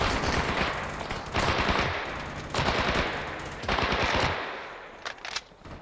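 Sustained bursts of heavy machine gun fire in the video game Stalker Anomaly, loud and close, repeating in long rattling volleys with brief gaps between them.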